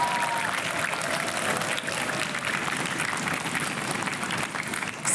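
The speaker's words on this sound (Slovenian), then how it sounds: "En aplavz za ekipi." A studio audience claps for two competing primary-school teams on a quiz show, producing a lively, sustained round of applause that stays loud for several seconds before tapering slightly.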